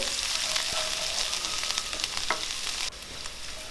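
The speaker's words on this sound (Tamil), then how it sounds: "இதில் நம்ம தட்டி வச்சுருக்கிற இஞ்சி, பூண்டு, சோம்பு அந்த விழுதை சேர்த்துட்டு இதிலேருந்து பச்சை வாசம் போகிற அளவுக்கு ஒரு மீடியம் ஃப்ளேமில் வச்சு நல்லா வதக்கி விட்டுருங்க" A paste of crushed ginger, garlic and fennel sautés in a pan over a medium flame for an egg roast, giving a steady close sizzle with occasional scraping stirs and no voices.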